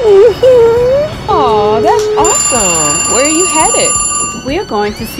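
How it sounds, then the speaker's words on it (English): A mobile phone rings with a bright electronic tone that keeps sounding while people talk over it. "Oh, that's my phone."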